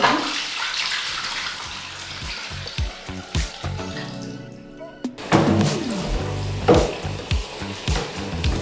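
Dirty soapy water is emptied from a cleaner's tank into a drain, with close splashing, gurgling pours and sloshing bursts, a brief quieter lull midway, then more uneven glugs and splashes.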